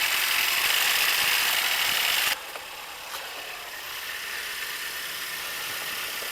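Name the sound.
Mercedes-Benz C300 engine running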